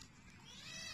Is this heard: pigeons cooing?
no